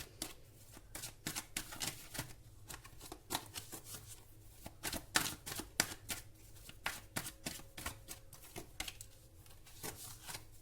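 Tarot cards being shuffled and drawn, a close, soft run of rapid riffling flicks and slaps in irregular bursts.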